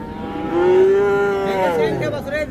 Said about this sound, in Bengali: পাশে একটা ছোট্ট বাছুর আছে ভাই